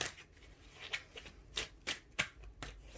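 A deck of tarot cards is shuffled by hand, producing repeated crisp riffling swishes and flicks in uneven bursts, close and quiet, with no talking.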